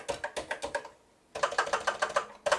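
Keys clack on the springy built-in keyboard of an MSX CF2000 computer in quick close bursts, a short pause splitting two runs of rapid typing, close and crisp with no talk.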